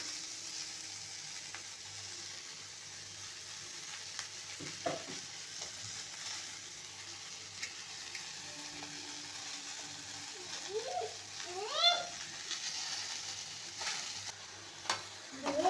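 Mint leaves sauté in a pan for pudhina chutney, with a soft, steady sizzle and occasional stirring scrapes and clinks, no talking.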